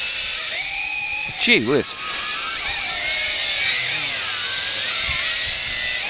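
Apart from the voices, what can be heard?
Tarantula X6 quadcopter drone flying at full throttle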